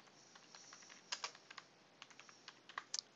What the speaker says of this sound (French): je tape fenêtre droite